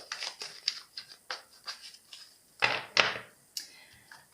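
A deck of tarot cards is cut and shuffled, giving a quick series of crisp, close snapping riffles and slaps, ending with two louder card flicks, heard alone.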